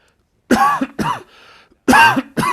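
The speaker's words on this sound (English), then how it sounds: "Cough here for a second." Three loud, harsh coughs close to the mic, the first two spaced apart, a quiet breath between, then a final pair of hacking coughs.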